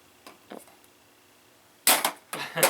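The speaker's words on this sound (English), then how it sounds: "I'm gonna bang it really hard." A Slam 'N Launch toy launcher is struck hard, giving a sharp loud bang followed by a second burst of clattering impacts, preceded by a couple of faint soft taps.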